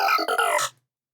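Synth lead preset Liquefied FM played with the sequencer off: a short, bright, watery FM phrase of a few quick stepped notes, loud and alone, fading out within a second.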